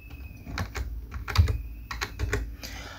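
A password typed on a computer keyboard: close, quick bursts of keystrokes with short pauses in between, and no talking.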